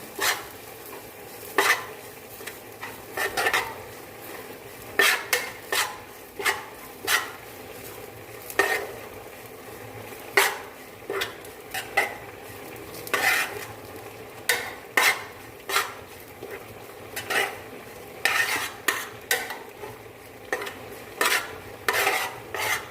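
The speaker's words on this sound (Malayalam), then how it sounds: "കുറച്ച് എണ്ണ ഒഴിച്ച് ചൂടാക്കാൻ വെച്ച് അതോട്ട് തേങ്ങ ഇട്ടൊന്ന് ഇളക്കിയതിന് ശേഷം" Grated coconut is stirred and fried in hot oil with mustard seeds for stingray dry-fish thoran. A spoon scrapes the pan in repeated rhythmic strokes over a soft, steady sizzle, with no talking.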